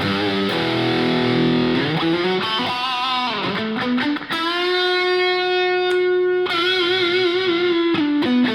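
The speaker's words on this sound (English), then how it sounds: "The hall reverb sounds good." Electric guitar through a Yamaha THR10 II amp with lush hall reverb, sustained chords and single notes ringing out and blooming into a spacious tail, played alone with no talking.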